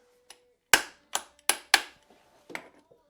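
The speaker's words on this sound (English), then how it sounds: "Let's give it a little bit of a smack." Several sharp metallic smacks knock at a BMW K100 motorcycle driveshaft part, about five loud close impacts in an uneven rhythm with brief ringing decays and quiet gaps between.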